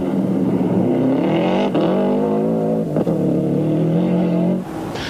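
A Subaru rally car, the PPG entry, drives flat out through Forry Flat on Rally Otago in the New Zealand Rally Championship, its loud engine holding a sustained high drone with brief dips at gear changes before it fades away.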